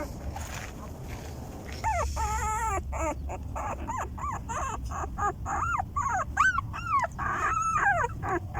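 Newborn puppy whimpering near its mother under a house, repeated thin high-pitched cries in quick rising-and-falling bursts, close and fairly loud over a low background hum.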